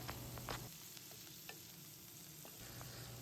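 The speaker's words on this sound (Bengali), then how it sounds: "গরম সর্ষের তেলের মধ্যে সেই পেঁয়াজটা দিয়ে দেব," Onion paste sizzles steadily in hot mustard oil in a home kitchen, a soft continuous crackle broken by a few louder spits and the occasional scrape of stirring, with no one talking.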